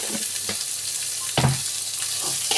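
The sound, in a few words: onions sautéing in a pan with salt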